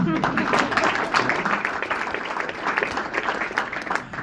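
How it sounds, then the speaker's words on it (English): An audience applauds as a man stands to be recognized, a dense, steady wash of many hands clapping that carries on for several seconds at a moderate level. "needs a hand of applause"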